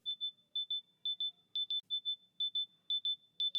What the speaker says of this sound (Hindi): तो इस तरीके से एक हाई पिच वाला साउंड जो है वो आपके ईयरफोन्स पे प्ले होता है